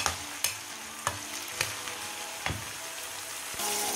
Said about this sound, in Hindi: अब इसके अंदर सब्ज़ी जो है वो डालेंगे और इसको थोड़ा सा ब्राउन करेंगे। अब इसको थोड़ा सा आप फ्राई करें।